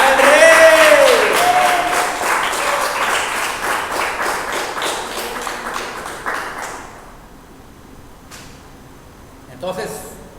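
A Messianic congregation claps in rhythm during a church service, loud at first beneath a speaking voice, then fading away over several seconds into near silence with a brief stir at the end.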